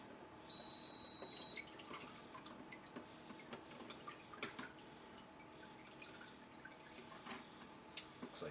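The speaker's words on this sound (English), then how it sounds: "Just kind of letting the water drain out of everything" Water draining and dripping from the basket of an Anycubic Wash & Cure Plus resin printer washing station, faint scattered drips and trickles after a brief steadier flow at the start.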